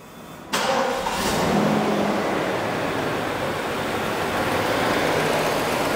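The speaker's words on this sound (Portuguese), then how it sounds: "Abre aí pra galera ver esse motor V8. Então, vou até ligar ele." A 1990 Mercedes-Benz 560 SEL with a V8 engine and 64,500 km fires up with a sudden loud catch, then settles into a smooth, even idle close by, with no talking.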